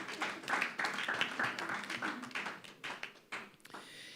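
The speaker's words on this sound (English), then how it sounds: "I think a round of applause is in order" Audience applause at a press conference launching the Nigeria Prize for Creative Arts: dense, steady clapping from many hands fills the whole stretch and thins slightly toward the end.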